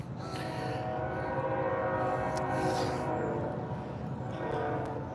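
A train rumbles by at a distance in a backyard garden with a steady mechanical roar, and a sustained tonal horn sounds faintly over the noise.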